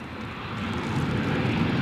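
Airliner on a crosswind approach to Newcastle Airport during a windy storm, its engines a loud, steady, broadband roar, close and unbroken throughout.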